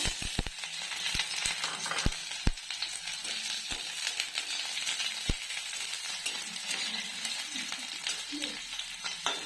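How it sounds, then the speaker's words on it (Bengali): Chopped capsicum sizzles in hot oil in a wok while veg Manchurian is being cooked. A steady, close frying hiss runs throughout, with sharp clicks and taps of stirring scattered over it and no talk. "এই তেলের মধ্যে আমি এক এক করে মাঞ্চুরিয়ান বল করার জন্য যা যা লাগে, এই যে ক্যাপসিকাম কেটে রেখেছি, ক্যাপসিকামটা দিয়ে দেবো"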